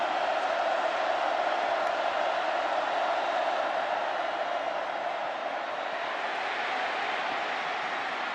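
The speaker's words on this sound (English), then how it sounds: "The 11th largest crowd ever in this stadium, and they're in full throat." A crowd of over 101,000 at a night college football game between Ole Miss and LSU roars in full voice, a thick, sustained wall of cheering that holds steady and loud throughout.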